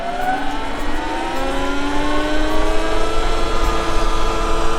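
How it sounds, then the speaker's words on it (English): A Surron X electric motorbike accelerates hard in sport mode, its motor whine rising steadily in pitch over several seconds, loud and close, with wind rush underneath. "when I put it in sport mode, it did accelerate a lot faster"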